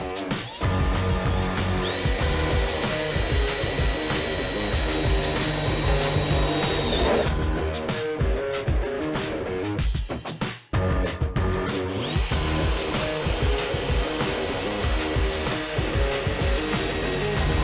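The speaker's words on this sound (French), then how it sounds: "le perçage du métal se fait toujours en 2 étapes" A power drill bores a hole through metal on a classic British Mini under restoration, a loud continuous whine and grind lasting several seconds, briefly stopping, then resuming.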